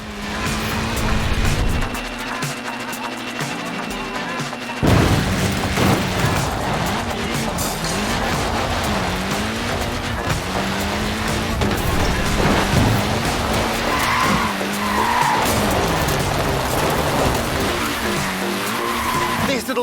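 A short-wheelbase, front-wheel-drive Mini slides in Forza Horizon 4, with loud continuous tire squeal and a revving engine rising and falling in repeated waves for about twenty seconds.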